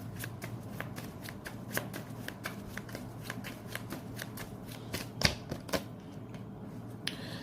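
Tarot cards being shuffled, a quick run of crisp riffling clicks and snaps repeating steadily up close, fairly quiet with no voices.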